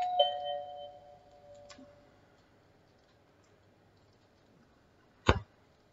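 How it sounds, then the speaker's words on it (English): A 1964 Friedland electric door chime rings out clearly, its bright tones decaying over a couple of seconds, followed by quiet and then a single sharp click. "welcome your guests every day with the happy sound of a FRIEDLAND chime"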